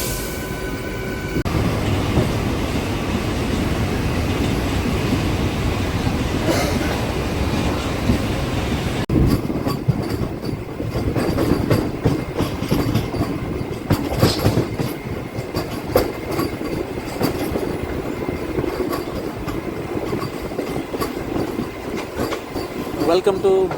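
A MEMU local passenger train between Bhimavaram and Machilipatnam runs steadily on the rails, its wheels clattering in a continuous rhythmic clickety-clack with some rumble throughout.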